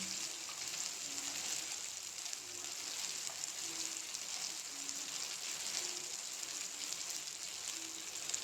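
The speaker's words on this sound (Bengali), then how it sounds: "জিরে গুঁড়ো, ধনে গুঁড়ো দিয়ে ভালো করে মশলাটা ভাজতে হবে।" Spice masala of turmeric, cumin and coriander powder frying in a pan, a soft continuous sizzle with faint scraping stirs, low and steady without talk.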